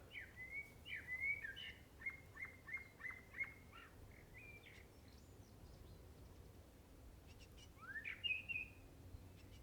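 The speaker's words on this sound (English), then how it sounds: "Look at the bird" A wild bird sings in a garden, a run of repeated clear whistled notes followed by a pause and then a brief rising call near the end, moderately loud over a soft, steady outdoor background.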